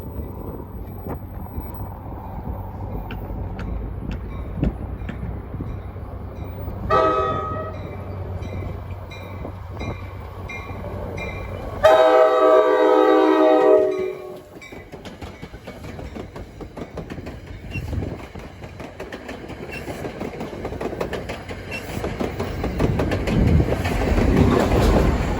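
An NJ Transit train on the Port Jervis to Hoboken run passes through Hohokus/Ridgewood, its wheels clicking and rumbling steadily over the rails. A horn blast sounds partway through, and the rolling noise builds toward the end.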